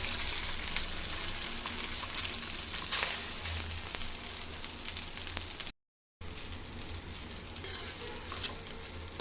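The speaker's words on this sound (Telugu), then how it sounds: "నేతిలో రైస్ను ఫ్రై చేసుకుందామండి ఒక ఐదు నిమిషాలైనా ఫ్రై చేసుకోవాలండి" Rice frying in ghee in a pan for an Independence Day sweet, giving a steady, close sizzle with soft stirring scrapes throughout and a brief dropout partway through.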